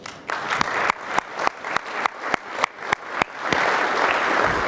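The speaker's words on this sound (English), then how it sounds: "Please give another round of applause." Club audience after a speaker event, first giving loud rhythmic unison claps at a steady beat, then breaking into continuous applause.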